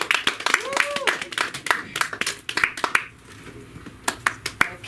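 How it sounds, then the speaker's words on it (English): Sparse claps for a woman at the close of a menstruation dignity exhibit show, scattered and uneven over about five seconds, with voices talking throughout. "Another applause, please, for her."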